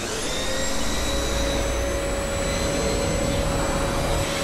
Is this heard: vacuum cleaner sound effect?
yes